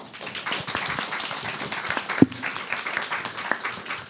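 A small audience at a forum applauds, a steady patter of many clapping hands lasting several seconds with one sharper clap standing out midway.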